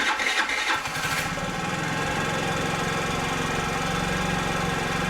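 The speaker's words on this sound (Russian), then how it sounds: "И сейчас пробуем, как заводится скутер." A scooter engine cranks and catches right after a fresh air filter is fitted, sputtering briefly before settling into a steady, loud, close idle.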